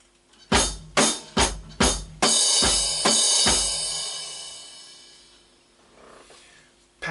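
Drum kit playing a song's pattern with hi-hat, snare, bass drum and cymbal: five sharp evenly spaced hits, then a crash that rings and slowly decays, a few more struck hits beneath it, and one final hit at the end, close and loud.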